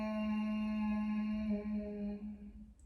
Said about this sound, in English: So this next movement we're going to use a humming sound.